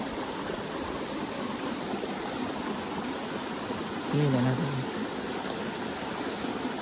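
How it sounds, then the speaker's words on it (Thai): Rushing water from a waterfall-fed stream makes a steady, even hiss throughout, with a short burst of voice briefly rising above it partway through. "จะมีน้ำตก จะมีน้ำตกนะทุกคนน"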